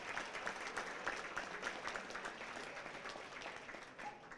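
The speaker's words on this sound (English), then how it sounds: "Just give a round of applause to you guys for being here." Applause from a crowd at a morning community breakfast for a family-strengthening event, a steady wash of many hands clapping at moderate volume that continues throughout without a break.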